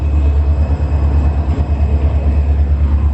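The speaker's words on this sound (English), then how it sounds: "That's the train that carries people all the way up to Frostburg." A steady low rumble of a passenger train rolling past nearby in Cumberland, continuous and loud throughout with no voices.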